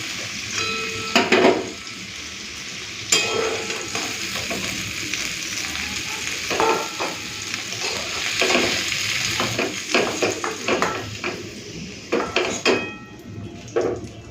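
Steady oily sizzling of potatoes and ivy gourd frying in a pan, with occasional scrapes and clinks of a spatula stirring against the metal.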